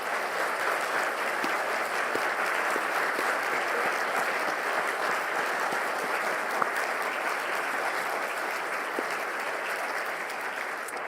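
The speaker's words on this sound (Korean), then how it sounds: "여러분의 그 아버지에게 박수를 한번 보내드립니다" A church congregation at a Sunday service applauds its fathers, with sustained, even applause from many hands filling the room at moderate loudness for the whole stretch.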